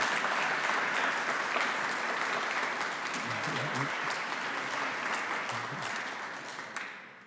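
Audience at a mental health and addiction event breaking into sustained applause, a dense, even clapping wash that holds steady and then tapers off near the end.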